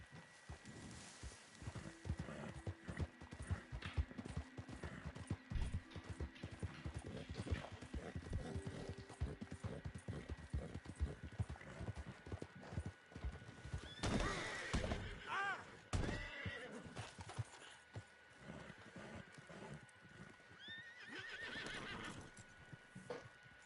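A horse walks with a steady clip-clop of hooves and lets out whinnies, close and clear, with faint human voices now and then.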